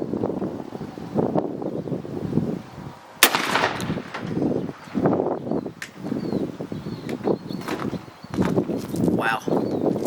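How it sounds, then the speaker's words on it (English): A 12 gauge shotgun loaded with Apex TSS shells fires outdoors through a Winchester Longbeard choke, one heavy boom cracking out amid gusty wind noise and rustling handling sounds close to the microphone. "Recoil-wise, probably one of the hardest hitting shells I've shot out of a 12 gauge."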